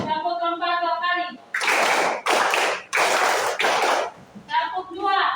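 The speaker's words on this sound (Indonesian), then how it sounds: "Tepuk keempat 2 kali." Students in a classroom clap a counted pattern in unison, four strong bursts of group clapping in a row between a teacher's spoken instructions, near and loud.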